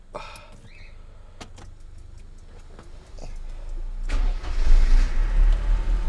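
A car's engine on its first start of a gloomy Saturday morning: a few faint ticks and clicks, then a sudden crank at about four seconds that settles into a loud, deep, close idle rumble.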